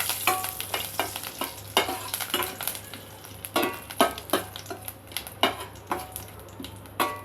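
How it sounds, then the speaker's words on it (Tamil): Curry leaves sizzle and crackle in hot oil as a spoon stirs and scrapes the pan in uneven strokes, close and fairly loud, with no talking. "கருவேப்பிலை சிறிது, இது பூரா நல்லா வதங்கும்."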